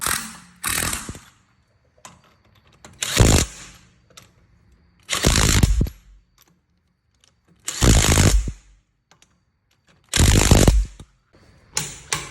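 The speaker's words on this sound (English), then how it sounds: "So I'm going to go ahead and grab my torque wrench, torque these down" Lug nuts on wheel spacers of a Lexus SC430 are tightened in five separate short bursts of ratcheting and mechanical noise, spaced a few seconds apart, with quiet gaps between.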